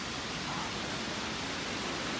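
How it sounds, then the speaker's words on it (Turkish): Steady, dense rush of a waterfall near green pools, a continuous broadband roar with no pauses and no voices. "Bir şelale var."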